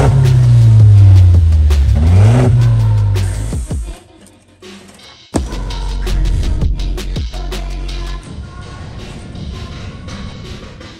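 Mercedes C200 car engine revving hard in a tuning workshop, loud rising and falling revs, then a brief drop to near idle before another sharp blip and steady running.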